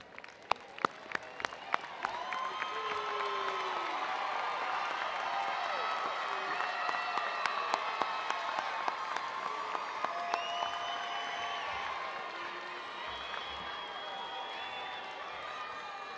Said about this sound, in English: join me in applauding those who helped you earn your degree